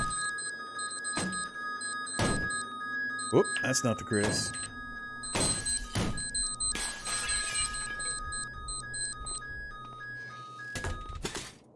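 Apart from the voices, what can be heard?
alarm going off in the video game Cataclysm DDA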